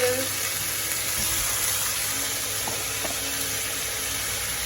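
Rice is added to a pan of fried cabbage and shallots, giving a steady close sizzle with faint stirring scrapes, and no talk over it.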